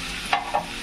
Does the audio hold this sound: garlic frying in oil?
yes